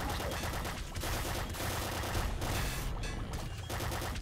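Dual bouncer SMGs fire in the Nuclear Throne video game as a loud, unbroken stream of rapid synthetic gunshots that keeps the same dense rhythm for about four seconds, with no voices.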